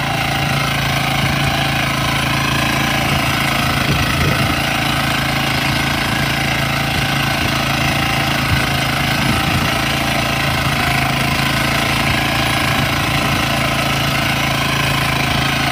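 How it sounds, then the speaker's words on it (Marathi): A small power weeder runs steadily, earthing up soil in a ginger field. Its engine makes a loud, continuous, gritty rattle close by, with no letup for the whole stretch. "आता पॉवर विडरने माती लावण्याचं काम चालू आहे. तर पॉवर विडर एक मशीन असते छोटी."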